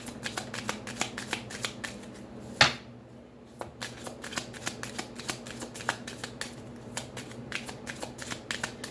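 Cards being shuffled during a tarot-style past-life card reading, a steady run of quick riffling clicks with one sharp louder flick partway through, close up over faint room hum.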